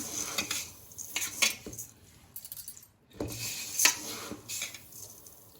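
Raw white rice for idli batter stirred by hand in a metal vessel, a steady scraping, rattling rustle of grains with clinking bursts and a short pause midway, close and fairly quiet with no voices.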